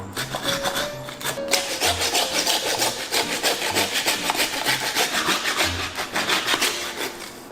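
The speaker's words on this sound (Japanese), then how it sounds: "このノコギリが切れないだけなのかな。" A hand saw rasps back and forth through the hard jaw bone of a large fish in quick, uneven strokes, close and loud, with no talking.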